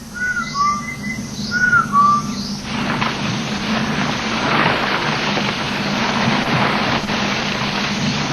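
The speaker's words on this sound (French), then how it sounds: "À leurs appels, dans le lointain, un sifflet répond" At night in Laos, a few sliding, bird-like whistled calls ring out over a steady background of hiss and low rumble. A broad wash of noise then swells and covers everything after the first few seconds.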